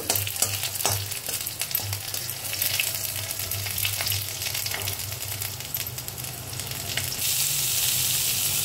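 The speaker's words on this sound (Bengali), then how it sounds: "দেব রসুন আর আদা, একটু ভেজে নেব।" Garlic and ginger hiss and sizzle steadily in hot oil in a pan alongside cumin seeds, with a few stirring scrapes; the frying grows louder and brighter near the end.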